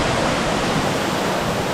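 Stewart Mountain River in St Mary, Jamaica rushes past close by, a steady, loud broadband wash of flowing water with no voices.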